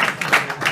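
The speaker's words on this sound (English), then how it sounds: "Snap, clap, whatever you want." Scattered applause and finger snapping from an audience at a student government election announcement, a short patter of claps and snaps without speech.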